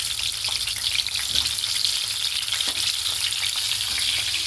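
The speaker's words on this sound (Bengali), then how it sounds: "তেলে এখন ভাজা ভাজা হোক" Pieces of pointed gourd (potol) frying in mustard oil, a close, steady crackling sizzle with occasional light spatters and soft stirring knocks.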